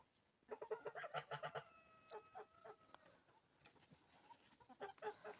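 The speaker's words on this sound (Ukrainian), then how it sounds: "Мої молоді півники співають вже." Young roosters crowing in short, uneven bursts amid clucking hens, fairly distant and quiet in an outdoor setting.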